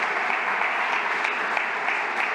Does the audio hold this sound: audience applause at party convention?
yes